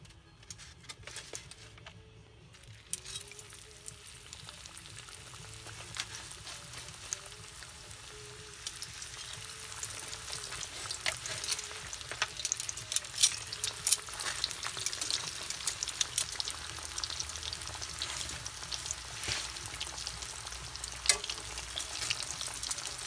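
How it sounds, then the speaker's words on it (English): Pacific cod coated in crushed potato chip breading frying in hot oil, a steady bubbling sizzle that swells after a quiet start and holds evenly, with faint crackles throughout. "now let's drop this fish in the oil"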